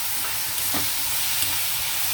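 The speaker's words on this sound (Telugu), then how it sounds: "నేను టమాటా వేసేస్తున్నాను." Tomatoes frying in a pan for a drumstick and capsicum egg curry, stirred as they cook: a steady close sizzle and hiss with soft scraping stirs, and no talking.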